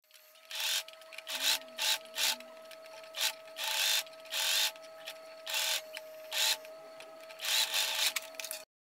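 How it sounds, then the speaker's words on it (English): Sewing machine stitching down the middle of a wrapped seam allowance on a gathered tiered dress, in a series of short, fairly faint bursts separated by brief pauses. "I sew stitching in the middle."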